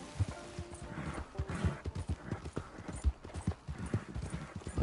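Horse hooves clip-clopping in Red Dead Redemption 2, a quiet, uneven run of hoofbeats on the ground with no talk over them.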